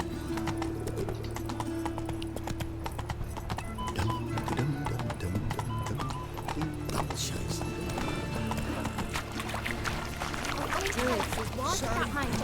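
Roach, the horse in The Witcher 3: Blood and Wine, gallops with steady clip-clop hoofbeats and an occasional whinny, running beneath continuous music, game effects and talking voices.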